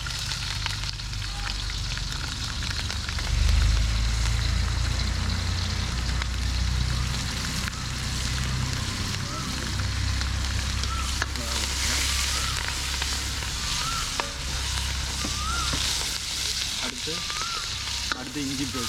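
Chili dropped into hot oil in a frying pan while cooking Jaffna-style chicken fried rice, giving a loud, steady crackling sizzle that carries on for the whole stretch without any talking.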